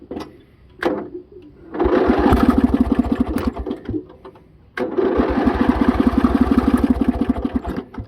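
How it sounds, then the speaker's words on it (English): A warmed-up 20hp Briggs & Stratton Vanguard tractor engine is cranked twice without choke, each attempt a loud close mechanical chugging burst lasting a few seconds before cutting out, separated by brief quiet clicks. "See, we'll start without choke now it's warmed up."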